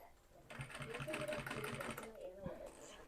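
A sewing machine stitches steadily for about two seconds in a quiet craft setting, a fast even whir that starts abruptly and stops, with faint background noise before and after.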